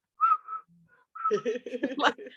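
Someone whistles a short, bright melody of several notes, with a brief pause between phrases; close and clear, no other sounds around.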